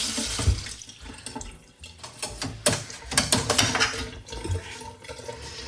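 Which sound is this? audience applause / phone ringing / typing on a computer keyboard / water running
water running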